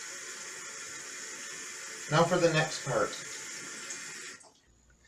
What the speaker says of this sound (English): Then I rinse it off.